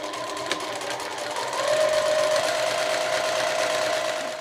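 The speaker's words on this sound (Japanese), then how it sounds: "では反対側も同じようにして縫っていきます。" A sewing machine stitches a three-fold hem on a seamless sleeveless dolman blouse, running as a steady mechanical whir that speeds up and holds a continuous hum from about a second and a half in, with no voices.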